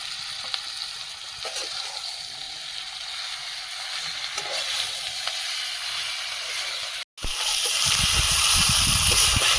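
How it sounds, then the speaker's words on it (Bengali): Chicken pieces dropped into a pan of fried spice paste sizzle and bubble, with a brief cut before a louder, harsher hiss of frying near the end, close up and without talk. "মশলাটা কষিয়ে নিয়েছি এবার চিকেনটা দিয়ে দেবো"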